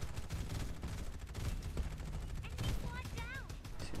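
Rapid gunfire rattles through a fight in the mobile and PC battle royale game Farlight 84. Dense, continuous bursts of shots fill the whole stretch at steady volume, with short sweeping electronic tones near the end.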